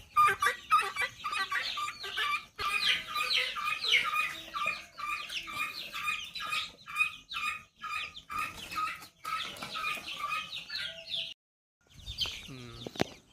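Hens cluck and chatter steadily in a dense, close chorus at morning feeding, with scratching and rustling beneath, ending in a brief pause and a low rumble.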